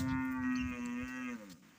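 A buffalo in a Gujarati village gives one long, deep, steady moo that fades out at the end, close by and loud, with no talk over it.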